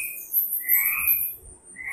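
A frog croaks in a cartoon about a food chain, with a few bright, chirpy calls that rise and fall across two seconds over a quiet, clean background.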